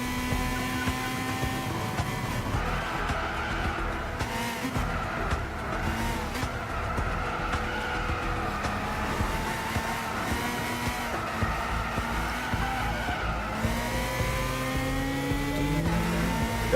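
Race car engines in Gran Turismo 6, a steady loud drone with rising and falling pitch as gears shift, tires squealing through corners, running alone without talk.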